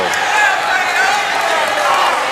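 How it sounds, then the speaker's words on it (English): Home crowd at a girls' high school basketball game between Bradley Central and Meigs County loudly jeers a referee's charge call, a dense, steady roar of many voices filling the gym. "the crowd disagreed with that, and they're giving the referee heck over that over there"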